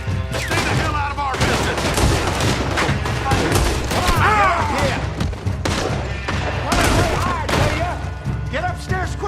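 Rapid, dense gunfire rattles through a cowboy-themed video game: volleys of close shots and repeating rifle fire continue almost without a break, with voices talking over the shooting.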